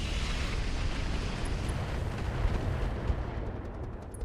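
Weapons fire and explosions in Roguetech, a dense sustained roar of rumbling blasts and booming impacts, loud and continuous without pause.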